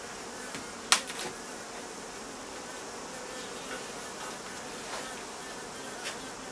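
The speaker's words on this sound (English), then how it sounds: "new comb that the bees are busy building" Steady, soft buzzing of many honey bees close by at a top bar hive, a constant insect drone with one brief sharp knock near the start.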